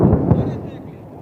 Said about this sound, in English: The bombs have been dropped and wait to hear the sound of the explosion.